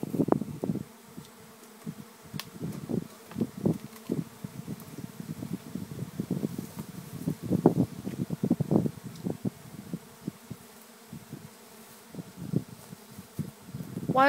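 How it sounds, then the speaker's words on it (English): Many bees in a swarm buzz in a dense, continuous drone, close and fluctuating as individual insects fly past, with no talking. "It's getting really dense with these bees."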